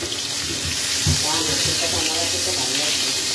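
Green jackfruit sautés in a pan with a dense, continuous sizzling hiss close by, and a voice is faintly heard beneath it.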